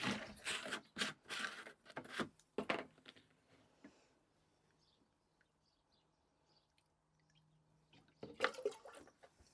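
Water pours into a watering can in irregular splashing gushes, close and fairly loud, then near silence, before a final burst of pouring.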